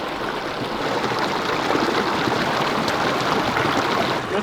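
Icy mountain stream water in Colorado rushes and burbles steadily nearby, a continuous broadband wash with no pauses or voices.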